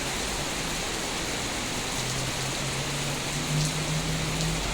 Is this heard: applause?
no